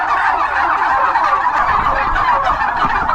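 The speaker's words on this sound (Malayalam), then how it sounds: "ടർക്കി കോഴി അതായത് തമിഴിലെ വാൻകോഴി കേട്ടോ" A loud, continuous chorus of turkey parent stock gobbling close by on a poultry farm, their warbling calls overlapping with no pauses throughout.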